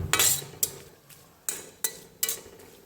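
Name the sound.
roasting chivda being stirred in a pan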